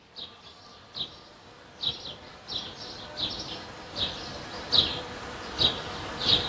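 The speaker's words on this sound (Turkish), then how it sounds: "arılar bu çiçeği çok seviyor" Bees buzz around the flowers of a trumpet vine hedge, with a soft, steady insect drone and repeated brief louder buzzes as individual bees fly close, over quiet outdoor background.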